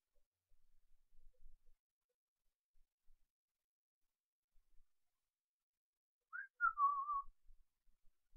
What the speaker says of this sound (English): don't whistle on camera